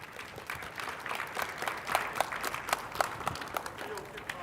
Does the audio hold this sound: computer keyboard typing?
no